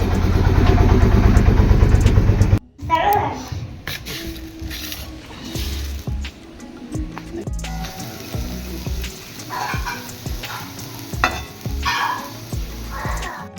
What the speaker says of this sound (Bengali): যেটা ভাজছি ওটাকে আমরা ঘি করলা বলি